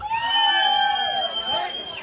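A live crowd at a stage show cheers and whoops with high, shrill rising voices that hold steady and stay loud for about two seconds, with no distinct clapping.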